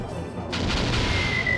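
Cannon fire and a torpedo launch from an airship battle in the video game Skies of Arcadia: Legends: a loud burst of booming, crashing blasts breaks in after a brief lull, followed by a thin high whine near the end.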